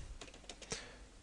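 Quick keystrokes on a computer keyboard while entering a terminal command, a short burst of several close, light clicks at an uneven pace with no voices.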